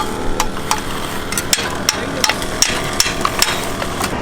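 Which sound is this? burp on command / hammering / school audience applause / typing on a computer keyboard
hammering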